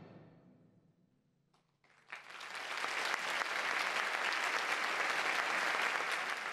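A concert audience in Istanbul bursts into enthusiastic applause after a quiet moment, the dense clapping swelling quickly and holding steady and loud to the end.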